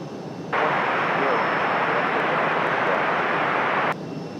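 A Boeing 737 jet at RDU airport roars past in a steady, loud rumble lasting a few seconds, rising abruptly and cutting off just as sharply over a faint background hiss.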